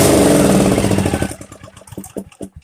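A lawn mower's small engine, repaired after a lost ground wire, runs loudly and steadily, then sputters into uneven chugging pulses as it slows.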